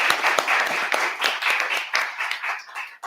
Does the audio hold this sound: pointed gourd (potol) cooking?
no